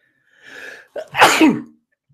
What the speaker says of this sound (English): I can sneeze with my eyes open